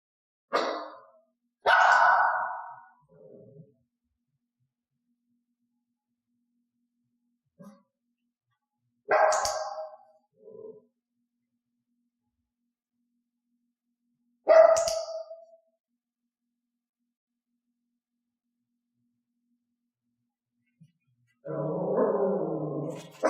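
A dog barks in several separate short bursts spaced a few seconds apart, with silence between, then a longer rougher vocal sound at the end.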